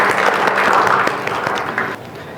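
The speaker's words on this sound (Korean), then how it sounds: "이곳에 불러주신 하나님께 영광의 박수 올려드리겠습니다." A church congregation claps steadily for a couple of seconds, fairly loud and close, then the applause thins out.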